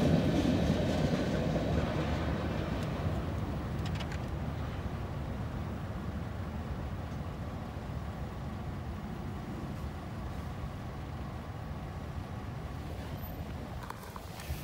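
A CSX freight train with a distributed power unit rolls past in a continuous, loud rumble and rattle of wagons that holds steady and eases only slightly toward the end, with no voices.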